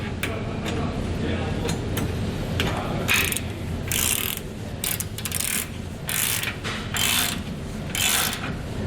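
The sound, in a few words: 19mm socket ratchet snugging down hex nuts on tie downs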